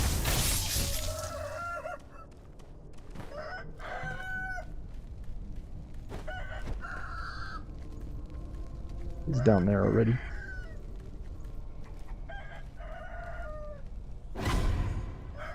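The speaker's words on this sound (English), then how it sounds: "Yeah, it's a chicken." Chickens cluck and squawk in the action game Sekiro, with short bursts of bird calls scattered through the stretch and one louder flurry midway. Someone talks over them.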